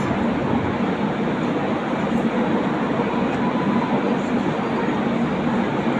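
A very long train passes through a station, filling the air with a steady, loud, continuous rumble of wheels and carriages that holds unbroken from start to finish with no voices.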